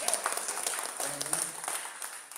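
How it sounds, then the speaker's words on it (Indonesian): A church congregation applauds during a sermon, giving a steady, dense wash of clapping that is partly masked by a voice. "Saya senang kalau saudara itu tepuk tangannya semangat itu untuk Tuhan."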